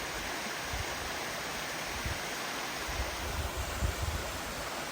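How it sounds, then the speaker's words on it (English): A small waterfall on a mountain stream along a forest hiking trail pours in a steady, even hiss, with occasional soft low thumps underneath. "Beautiful little waterfall right here."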